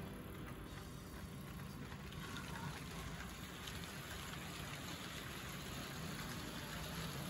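An Athearn Blue Box model locomotive runs on a model railroad layout, giving a steady, continuous whirring hum with a faint hiss that holds even for the whole stretch, with no talking.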